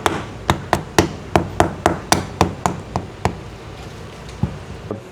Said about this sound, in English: This will just tap in.